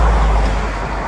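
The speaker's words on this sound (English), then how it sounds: "There's a lot of cars." Loud, close roadway rumble of cars passing on a road, a dense broadband wash of tire and engine noise with no distinct pauses, heavy in the low end.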